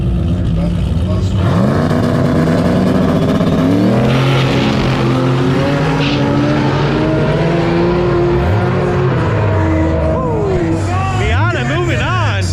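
A BMW and a Mazda Miata launch side by side in a no-prep True Street drag race at Immokalee Regional Raceway. Loud engines rev and climb through gear changes over crowd noise and an announcer talking.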